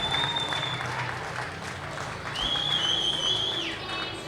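A speedway crowd gives sustained applause and cheering at the finish of a heat, a dense wash of clapping broken by a couple of high whistles.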